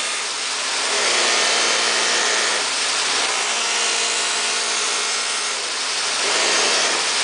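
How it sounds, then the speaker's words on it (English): A buffing wheel cuts and polishes stainless steel trim, a loud, continuous close-up whirring grind that swells and eases slightly as pressure changes, with no talk. "So I'm polishing or cutting as aggressive as possible."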